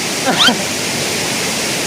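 Phon Phop waterfall on Phu Kradueng mountain, a constant broadband rush of falling water filling the whole clip, loud and close, with someone briefly speaking over it.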